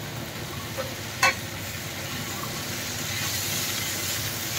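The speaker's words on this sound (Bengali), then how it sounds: "সোয়াবিনটাকে ভালো করে মশলার সাথে মিশিয়ে নেওয়া হচ্ছে" Soybean cooking in a pan with spices, tomato and boiled peas for ghugni, giving a steady hissing sizzle throughout, with one sharp utensil clink early on and no voices.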